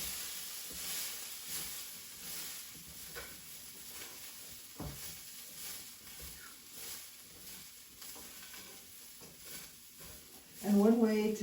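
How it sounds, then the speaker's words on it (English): Faint, steady sizzling of olive oil in a hot pan, a soft hiss running beneath a person talking. "then it starts to sizzle."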